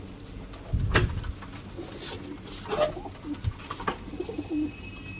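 A breeding pair of pigeons cooing up close, a deep throaty coo early on followed by softer intermittent coos, faint rustles and wing flutters in a quiet space.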